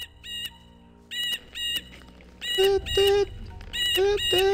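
A bird in the video game Gothic 2 giving repeated shrill, electronic-sounding calls in short bursts, close and loud, growing denser with a lower honking tone underneath; sounds somewhat like a car alarm.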